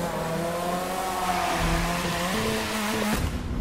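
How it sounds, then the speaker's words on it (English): Tire squeal from a car drifting in The Crew 2 racing game, with a steady engine drone and sliding pitch-shifting whine that holds loud and continuous throughout, no talking. "I love drifting in this game now."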